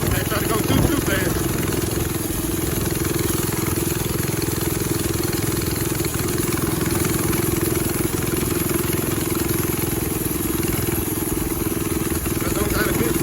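A motorcycle engine hums steadily on a test ride, a continuous mid-pitched drone with wind noise, the rider talking over it at times.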